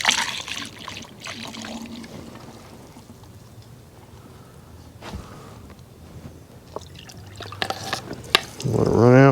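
Liquid is poured into the cylinder of a 1965 Honda CB450 Black Bomber motorcycle engine through the spark plug hole, a soft close trickle and dribble with handling clicks and knocks around it.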